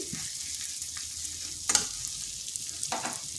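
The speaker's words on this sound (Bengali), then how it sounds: "মশলাটা একটু ভেজে নিচ্ছি।" Spices frying in a pan for a vegetarian bottle gourd curry, a steady close sizzle with occasional scraping stirs and brief louder spatters.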